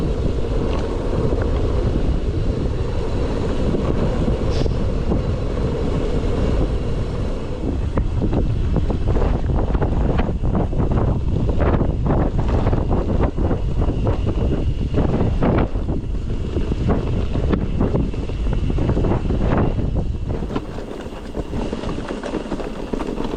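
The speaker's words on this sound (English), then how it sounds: "And it's always windy down here." Wind roars steadily across a cyclist's microphone while riding the Ridgeway trail on a cloudy March day, a loud, continuous buffeting rumble that eases slightly near the end.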